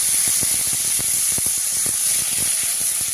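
Potatoes fry in a pan as a dense, continuous hiss of sizzling oil, loud and close, dotted with small irregular pops and crackles throughout.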